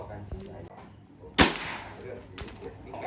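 A single sharp, loud gunshot cracks out at a live-fire shooting range in Krabi, with a fainter pop afterward and low murmuring voices in the background.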